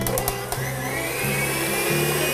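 An electric mixer whirs steadily and loudly beating cream, its motor pitch shifting slightly as it beats, with no talking over it.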